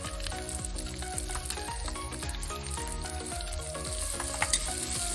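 Green chillies, onion and ginger sautéing in a pan for street-style veg chowmein, a steady close sizzle with repeated stirring clinks and scrapes throughout, no voices.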